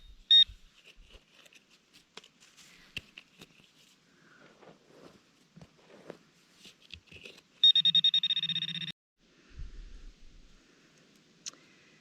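A metal detector sounds over a faint, deep target beside a dig hole, with scattered short tones and clicks and then a sustained buzzing beep of about a second, alongside light handling noise and no talking.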